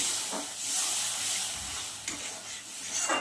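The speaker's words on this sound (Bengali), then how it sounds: "এবার একটু অল্প করে জল দেব।" Water poured into a hot pan of spiced chicken masala hisses and sizzles steadily, a close, moderate steam-and-frying sound with a few soft stirring bumps and short swells.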